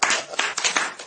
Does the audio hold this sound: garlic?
no